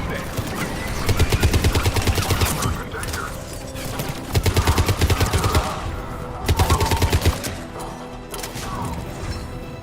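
Heavy gunfire at a checkpoint battle in Mass Effect 3, bursts of rapid automatic fire repeating in loud close volleys with background combat noise and voices in between.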